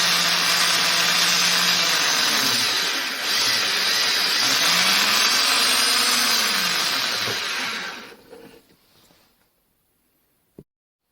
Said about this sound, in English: A brake cylinder hone is used to remove any remnants of burrs inside the bore.